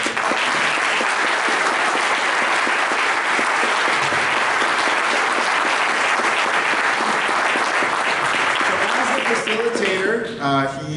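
Applause from a Rotary club audience at a meeting celebration fills the room loudly and evenly for about ten seconds, then tapers off as a voice begins speaking.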